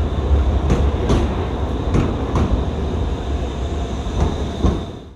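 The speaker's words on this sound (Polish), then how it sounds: "Takie nowoczesne wagony typu Twist na naszych torach to dobra wiadomość dla sosnowieckich pasażerów." A modern Twist tram runs on city tracks in Sosnowiec, Poland, with a steady close rolling rumble and several sharp rhythmic clacks as its wheels cross rail joints, and no voices.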